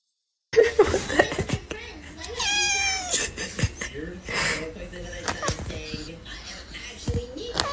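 Pet cats meow repeatedly and loudly, close by, with sharp cries scattered among laughter and a voice.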